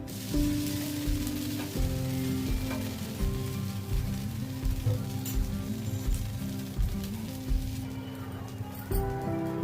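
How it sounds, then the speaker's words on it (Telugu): A flipped dosa sizzling on a hot pan with oil, a steady crackling fry hiss running throughout, with occasional soft clinks and scraping. "ఇప్పుడు దోశ కాలింది, తిరగేసుకుంటున్నాను"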